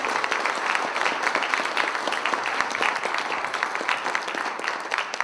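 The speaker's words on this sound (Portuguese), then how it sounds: "Uma salva de palmas." A conference audience at a Python keynote breaks into continuous, even applause, many hands clapping at once in a large room for the full length.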